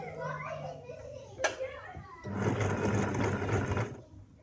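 A sewing machine stitching a few stitches in reverse and then forward again, a brief whirring hum under a child's and an adult's voices in a sewing lesson, with a pause and a click before the steady motor run.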